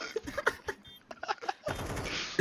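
Rapid gunshots crack in quick succession during a Counter-Strike style shooter match, sharp bursts spaced by brief gaps, then a louder, sustained blast of noise near the end.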